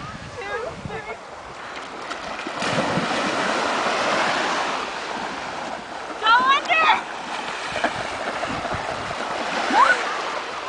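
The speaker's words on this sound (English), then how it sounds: "we're going in the water" Splashing and sloshing of Mediterranean seawater as people wade in amid rolling surf, with voices calling and chattering over the water.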